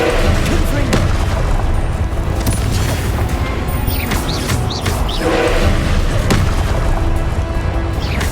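Repeated booming blasts from the Confringo spell in Hogwarts Legacy on Xbox Series X, with several loud explosive hits spread over about eight seconds. A voice talks amid the dense game noise.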